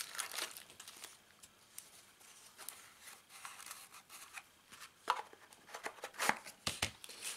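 A small plastic goodie bag from a vape RDA kit box is handled close up, with soft, intermittent crinkles and sharper rustling snaps toward the end.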